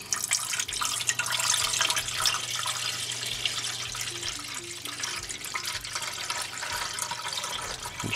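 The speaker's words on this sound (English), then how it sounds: "put some water in it." Tap water runs steadily into a larger cooking pot being filled for a simple double boiler to melt candle wax, a continuous close splashing hiss with no talking.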